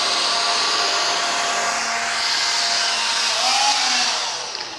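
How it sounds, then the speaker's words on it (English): A competitor vacuum cleaner makes one pass over flour on a black acrylic surface, its motor roaring loud and steady with a broad airy whoosh, a slight pitch sweep near the end before it eases off. "So we're actually going to start with a competitor vacuum."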